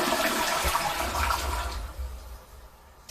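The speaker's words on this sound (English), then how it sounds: "I'm going to go ahead and flush this rusty stuff," A toilet with rusty water in its bowl flushes after a bidet attachment is fitted: a loud, close rush of water that swirls and then gradually fades as the bowl drains.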